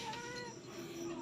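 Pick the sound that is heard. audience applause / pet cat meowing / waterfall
pet cat meowing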